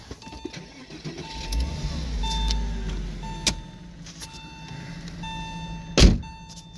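A convertible car sets off for a ride, with a low engine rumble swelling and settling, faint steady tones, a few small clicks and a sharp thunk near the end.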